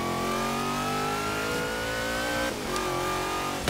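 Supercharged car engine in Forza Horizon 3 (Hot Wheels expansion) revving, with a rising harmonic whine as the supercharger spools up, a brief dip and shift near the end, then climbing again; loud and continuous with no talk.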